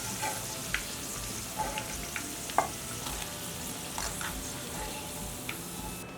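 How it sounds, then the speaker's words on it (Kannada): Cauliflower gobi pakoda frying in hot oil gives a steady soft sizzle and crackle, with scattered small pops and an occasional light clink of a utensil, all fairly quiet and close. "ಕೆಂಪಗೆ ಫ್ರೈ ಮಾಡ್ಕೊಳ್ಳೋಣ."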